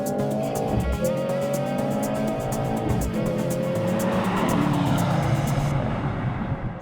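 A 2025 Mercedes-AMG C63 S E Performance launching hard in sport mode for a 0–100 km/h run, engine note climbing through rapid upshifts with tire noise, loud and close from inside, no voices.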